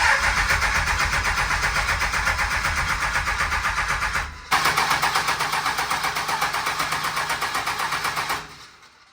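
A 2nd Gen Cummins diesel engine cranks on its first startup without firing, giving a loud, rhythmic starter churn that runs for about four seconds. It stops briefly, cranks again and then cuts off.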